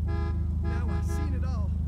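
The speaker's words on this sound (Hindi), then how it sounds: "हॉर्न क्यों दे रहे है?" A steady Toyota Mark II car horn toot with engine hum beneath, bright and close, sounding from GTA 5.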